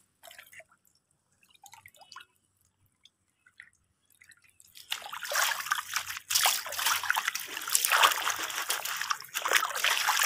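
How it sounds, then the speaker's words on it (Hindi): Fresh mint leaves rinsed in water to wash off soil: faint drips and small trickles at first, then steady running, splashing water for the last half, with no talk. "बहुत अच्छे से इसको धो रही हैं, अच्छी तरह से इसकी मिट्टी वगैरह निकाल दी है।"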